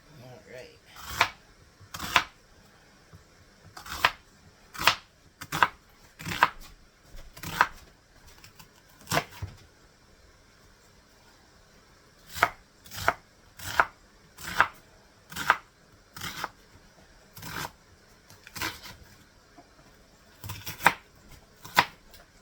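Leftover onion being chopped on a cutting board, sharp knife strikes coming in quick clusters with short pauses between them, close and crisp, with a voice heard only faintly.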